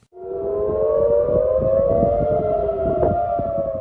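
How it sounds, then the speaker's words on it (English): Air raid sirens warning of rockets wail across central Tel Aviv, several overlapping rising and falling tones sounding loud and continuous throughout, with no talking. "Sirens rang out across central Tel Aviv"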